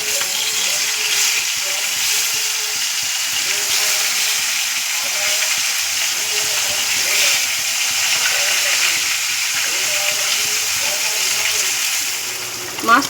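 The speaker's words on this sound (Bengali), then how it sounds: "মাছটা এবার আমার লাল করে ভাজা হয়ে গেছে।" Flipped rohu fish pieces sear in hot oil in a wok, a steady hissing sizzle with bursts of steam that holds up close and loud, ending in a brief louder clatter.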